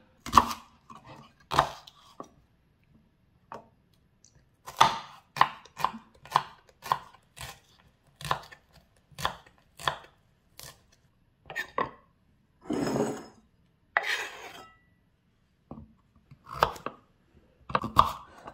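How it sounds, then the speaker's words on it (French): A knife chops carrots into small pieces on a board, a fairly close series of sharp, evenly spaced cuts in short bursts, with brief pauses and a couple of longer scraping sounds between them. "ici, je coupe les carottes en petits morceaux"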